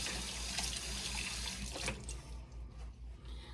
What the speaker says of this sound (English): let me rinse my hand off because I got a little bit of greasy Oreo cookies on there